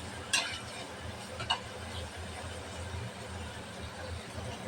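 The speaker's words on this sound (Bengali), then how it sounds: "পেঁয়াজটা ভালোভাবে ভাজে নেব।" Chopped onions frying in oil in a pan for spiny gourd bhaji, giving a soft, steady sizzle throughout with a couple of sharp clicks of stirring near the start.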